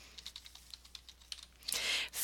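Fingers typing on a computer keyboard while filling in a Word template, a steady run of light, close key clicks that builds into a faster, louder burst near the end.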